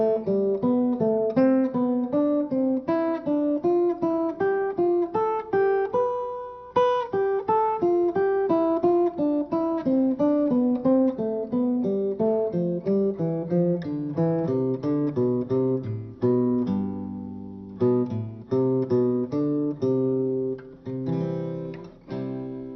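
Acoustic guitar picks a steady diatonic scale sequence in thirds, bright single notes paired in ascending and descending steps at an even rhythm, close and clear with no talking, over about twenty seconds.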